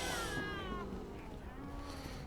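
A cat in the DayZ video game gives a drawn-out, whiny meow, then a second quieter cry, faint against a noisy outdoor game background.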